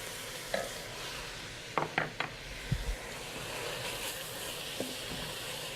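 Crumbled sausage frying in a pan while a utensil chops and stirs it, giving a soft sizzle under a few sharp scraping knocks clustered near the middle.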